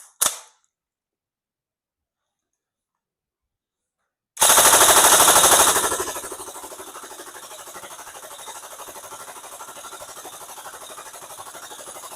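TM MK46 Next Gen AEG airsoft gun emptying a drum magazine of 0.32 g BBs on full auto, a sharp click, then after a silent pause a loud continuous rapid-fire buzz that settles into a steady, slightly quieter rattle.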